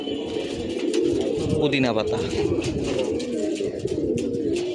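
Pigeons, both young and old birds in a loft, coo in low repeated calls close by while someone talks over them.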